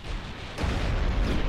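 A 14-inch naval gun fires in the warship game Ultimate Admiral Dreadnoughts: after a quieter start, a sudden deep boom hits and rolls into a sustained heavy rumble.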